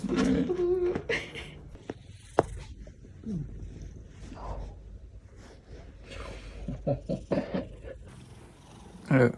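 A cat purring up close, with rustling and soft handling noises breaking in at times.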